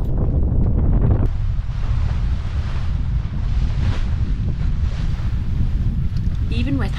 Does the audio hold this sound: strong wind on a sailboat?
yes